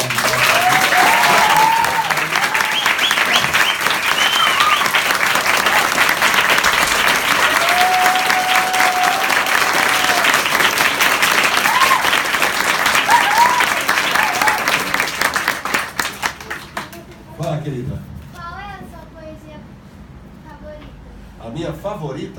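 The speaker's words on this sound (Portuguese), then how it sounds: "Então uma salva de palmas para esses professores falarem." An audience applauds teachers with long, dense clapping and some cheering that tapers off after about fifteen seconds, leaving scattered claps and voices talking.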